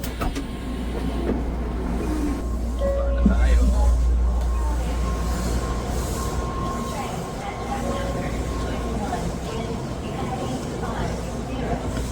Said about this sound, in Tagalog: Ayan ang Shinkansen. Shinkansen, bullet train, doon, pabalik.